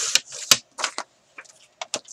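Wedding invitation paper is cut down for a scrapbook in a handful of crisp, close snips and crinkles, separated by short pauses.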